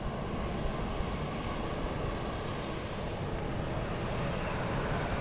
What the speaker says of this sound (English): So I'm going to pan around to this one, which is taxiing in.